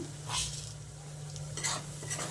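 Tadka spice masala being stir-fried in a pan for egg tadka, with a steady low sizzle and a few scraping stir strokes near the start and end, close and fairly quiet, with no voices.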